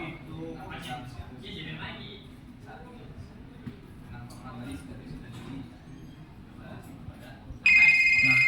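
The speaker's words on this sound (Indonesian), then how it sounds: "aplikasi akan mengeluarkan sebuah reminder seperti nada dering atau alarm" A quiet room with faint voices, then near the end a loud electronic ringtone alarm from a schedule reminder app suddenly starts and keeps ringing in a steady tone.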